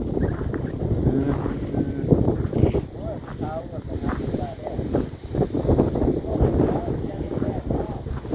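Strong wind gusts across open salt fields in Laos, buffeting the microphone with a steady, rough roar beneath people talking throughout.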